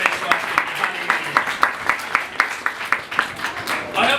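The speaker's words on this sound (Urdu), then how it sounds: "یہ زوردار تالیاں ہو جائے اس واسطے۔" A church congregation claps in a steady, rhythmic beat of sharp hand claps. The clapping is fairly loud and fills the space, and a brief swell of cheering or voices comes at the very end.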